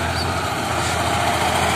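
A farm tractor engine runs steadily outdoors, a continuous low rumbling drone with a faint rhythmic throb, close and fairly loud with no talk over it.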